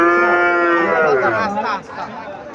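A cow moos loudly and close at a busy cattle market in Comilla, a long harmonic bellow that rises and fades, with crowd chatter and voices in the background.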